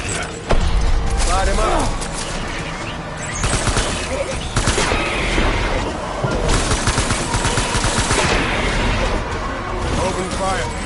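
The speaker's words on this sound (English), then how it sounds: "Open fire." Sustained heavy gunfire from the video game Death Stranding, a loud, dense barrage of rapid automatic shots and booms that runs the whole time under voices.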